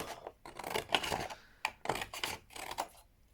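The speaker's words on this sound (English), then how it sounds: "I prefer to use scissors for this" Scissors snip through paper in a quick series of crisp cuts, close up, with short pauses between strokes and no talking.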